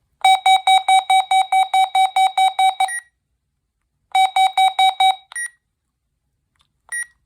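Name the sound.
RadioShack 12-254 siren test alarm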